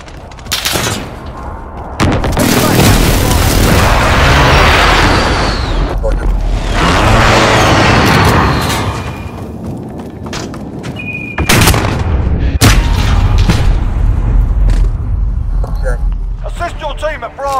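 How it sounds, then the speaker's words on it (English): Airstrike explosions in a video game arrive as loud, prolonged booming blasts with rumbling debris and scattered gunfire, while voices call out over the chaos. "Airstrike, take cover!"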